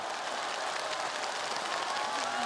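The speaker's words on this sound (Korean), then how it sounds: "14팀 참가자에게 박수를 보내주시기 바랍니다" An audience at a regional Korean folk-song contest awards ceremony applauds the participating teams in steady, dense clapping throughout, moderately distant.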